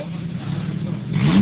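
Engine of a 4x4 car on an off-road route near Pola de Allande, running steadily and then revving louder toward the end, heard close with no talk.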